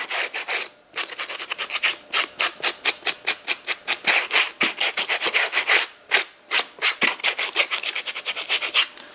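Suede leather on Birkenstock sandals being brushed with a specific suede brush, giving a rapid series of dry, scratchy strokes in a steady back-and-forth rhythm, close and fairly loud, with no voices.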